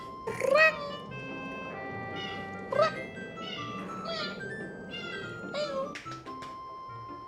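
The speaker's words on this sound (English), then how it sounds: "Kitty's just meowing." A pet cat meows repeatedly nearby, several short rising calls spaced out over a quiet indoor background, with a few softer mews between them and no talk over them.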